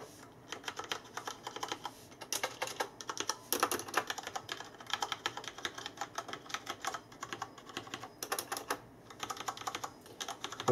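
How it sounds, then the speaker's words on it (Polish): Fast, continuous clacking of a Thermaltake Meka G-Unit mechanical keyboard, close up and fairly loud, with dense bursts of keystrokes and no talking. "posłuchajcie, jak głośna jest ta klawiatura"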